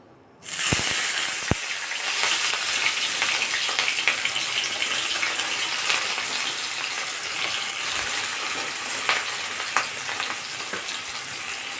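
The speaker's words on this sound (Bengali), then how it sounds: "আমি ওই তেলের মধ্যে আমি দিয়ে দেবো এবার পেঁয়াজ কুচি" Chopped onions hit hot oil with a sudden loud sizzle that settles into a steady, crackling fry, with a couple of sharp clinks near the start.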